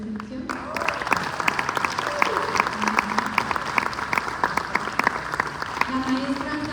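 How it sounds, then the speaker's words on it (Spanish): Audience applause for a selection committee at a state theatre festival event, a strong burst of many hands clapping with a crowd murmur beneath and a voice speaking over the start and end. "quiero que recibamos con un fuerte aplauso a los miembros del comité de selección"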